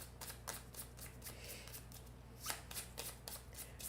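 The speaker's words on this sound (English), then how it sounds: "We are going to shuffle." Cards shuffled for the board game Wondrous Creatures, a run of crisp, rapid riffling bursts close up, repeating steadily over a low background hum with no talking.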